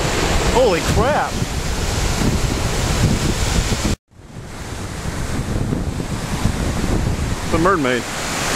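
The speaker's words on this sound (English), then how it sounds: "Wow, look at the waves, Kyle." Ocean surf rolls onto the beach at Destin with heavy wind buffeting the microphone, a loud continuous wash broken by a brief cut, with faint voices now and then.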